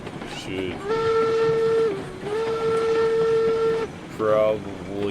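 A train whistle in the game RailRoads Online sounds a long, steady blast, briefly wavers, then carries on before ending, followed by a short second toot; clear and fairly close.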